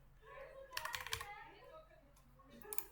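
Keyboard typing on a computer, heard as a short burst of quick keystrokes in the middle and a few more clicks near the end, fairly close against a quiet room.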